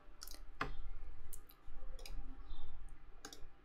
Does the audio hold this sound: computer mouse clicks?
yes